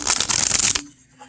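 A Naturescapes Tarot card deck being shuffled, a dense close riffle of papery flutters for under a second, then it stops and leaves near silence.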